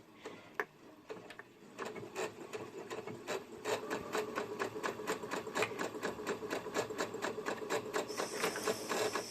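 A sewing machine stitches a seam on a sunshine dress, its rapid, even ticking starting softly and then running steadily and close for most of the stretch, with no talking.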